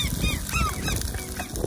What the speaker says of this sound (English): Oh, there's seagulls